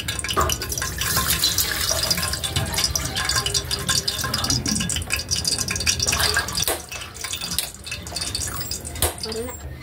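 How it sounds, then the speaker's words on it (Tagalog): Water is poured into a pot of fried fish for shrimp sinigang, a steady, close splashing pour under continuous background noise that eases off toward the end. "At lagyan na po natin ito ng tubig."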